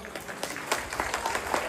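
An audience applauds at the Essex Tamil Sangam Pongal festival in the UK, with brief steady clapping from a crowd.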